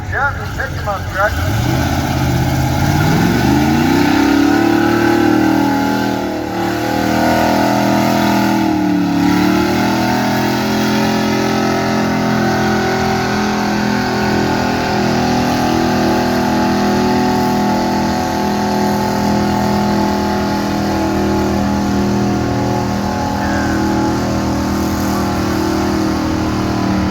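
A Chevy pickup truck engine revs and labors under heavy load during a county fair truck pull, roaring loudly and continuously, pitch rising then holding steady, with a voice and crowd noise mixed in.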